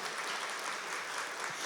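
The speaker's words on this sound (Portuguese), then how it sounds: "Aplaudimos a palavra de Deus." Church congregation claps together during Mass, a steady even patter of applause that sounds somewhat distant and soft throughout, with no voices over it.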